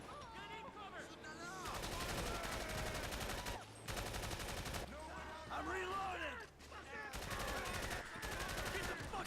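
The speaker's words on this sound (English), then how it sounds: "So let's begin shooting these Lost MC." Rapid automatic gunfire crackles in bursts in GTA V as a player shoots at Lost MC biker gang members, loud volleys separated by brief lulls over game music and ambient noise.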